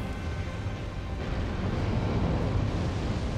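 A fire attack in Elden Ring makes a continuous, roaring whoosh of flame that thickens and grows louder midway, broad and rumbling with no speech over it.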